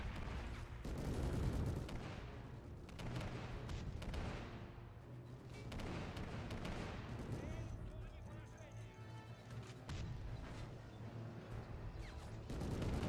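Gunfire hitting armored vehicles in the real-time strategy game Men of War, a dense rumble of shots and booms running continuously under a voice.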